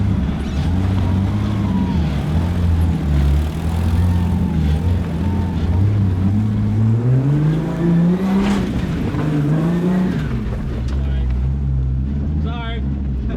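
Off-road vehicle engine revving hard through mud, the pitch climbing and falling in long surges as the throttle is worked, loud and close with a steady growl throughout.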